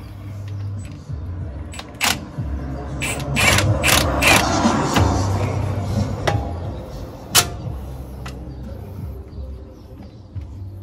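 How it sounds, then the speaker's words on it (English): Pneumatic impact wrench tightening bolts on a Dodge Ram 1500 front end during a rebuild, a few short bursts and a longer rattling run, close, amid workshop clanks. "now I'm going to tighten it in with the impact a little bit"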